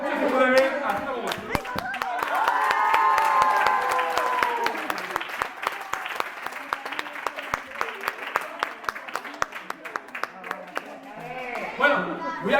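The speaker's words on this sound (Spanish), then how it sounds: "si me aplauden mucho se puede ver hasta como" Audience applause at a children's magic show in a library, a dense burst of clapping that swells early, with a voice briefly rising over it, then thins into scattered individual claps before a final flurry.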